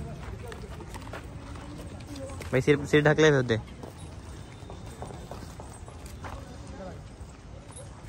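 Horses at a stable during a Sikh annual fair gathering at a gurudwara give a short burst of loud hoof clatter under steady chatter and talk, surrounded by crowd noise.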